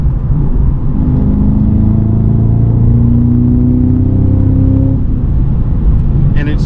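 A 2024 Cadillac CT5-V Blackwing engine in V mode with rev match on, a loud close rumble whose pitch climbs under acceleration and then eases off, with road noise throughout.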